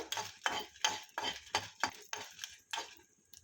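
Dried red chillies fried in a little oil for a coriander pickle, heard as a quiet run of about nine rhythmic spatula scrapes and stirs against the pan, faint crackle between strokes.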